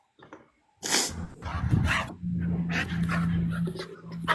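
A dog pants quickly and whimpers up close, with a faint sniff and a thin whine running through the rhythmic breathing.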